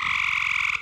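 A vibrator rattling on a tin tray to imitate a grey tree frog gives a loud, steady buzzing trill, close and continuous for nearly a second before cutting off abruptly.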